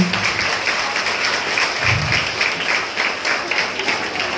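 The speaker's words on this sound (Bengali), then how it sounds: "মেয়েদের আমি বলবো যারা এঁকেছে তাদের করতালি দিয়ে উৎসাহিত করার জন্য।" Audience applause at a school Independence Day celebration, encouraging the girls who made drawings; a steady, fairly soft patter of many hands from a seated crowd, continuous throughout with no pauses.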